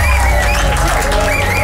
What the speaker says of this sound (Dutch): Applaus voor Fresku!